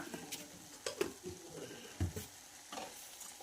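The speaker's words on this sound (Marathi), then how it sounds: "आणि छान असा वितळून होईपर्यंत मिक्स करायचा आहे" Jaggery, one bowlful, stirred in a pan until it melts for a sweet lapshi porridge, giving soft scraping stirs and light sizzling with a few sharper spoon knocks, fairly quiet throughout.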